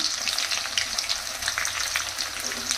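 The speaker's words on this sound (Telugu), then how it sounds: "చూడండి ఫ్రెండ్స్, ఆయిల్ అయితే వేడెక్కిపోయింది. కట్ చేసి పెట్టుకున్న ఆనియన్స్ వేసేసుకుంటున్నాను." Chopped onions sizzle in hot oil as the base for a chicken kurma, a loud, dense, continuous crackle with no pauses and no voices.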